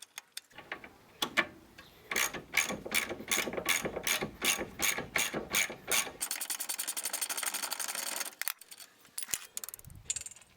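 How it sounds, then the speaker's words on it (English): Top mount bolts come off a rear shock absorber on a Mk7 VW Golf with a rapid, close clicking of a ratchet wrench in quick bursts, then a sustained run of fine ratcheting before a few looser metallic clinks. "I then remove the two top mount bolts."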